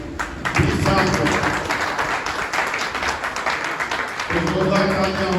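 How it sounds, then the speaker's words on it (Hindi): An audience at a district-level carrom tournament prize ceremony in Muzaffarnagar claps in a sustained burst of applause that fills the room, with a voice speaking over it at the beginning and end. "जोरदार तालियां हो"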